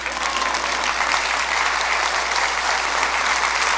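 A congregation applauds during a Spanish-language sermon in church. The clapping is loud, full and continuous for about four seconds, over a faint steady low hum, with no voices heard.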